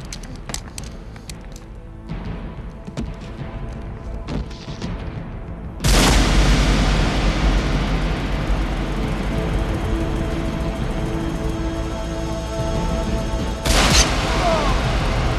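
Two loud gunshot blasts mark a shootout in a 1997 crime comedy film, each a sharp, booming hit followed by a lingering rumble, about eight seconds apart, over quieter scene noise.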